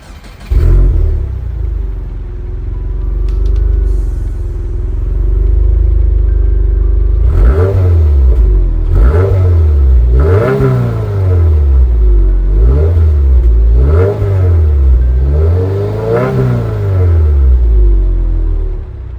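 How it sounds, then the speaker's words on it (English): A Subaru WRX Sport-tech with a six-speed manual and quad exhausts starts with a loud burst and settles into a deep, steady idle. Then come about six sharp revs that rise and fall, close and loud, with no talking. "Like the startup sound and the rev sound is really nice."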